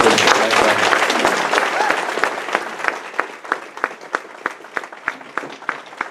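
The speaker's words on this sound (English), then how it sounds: "you'll give them a round of applause." Audience applause at a sheriff's office presentation begins as dense clapping, then thins out into a few slower, scattered claps before fading.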